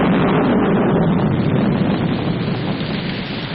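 Heavy rain and a rumbling thunderstorm in an old film fill the whole stretch with a loud, continuous broadband roar that eases slightly toward the end.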